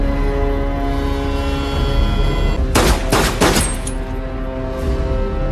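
A burst of several loud gunshots fired in rapid succession during a tense film scene, cracking sharply over a sustained musical drone, then the score continues alone.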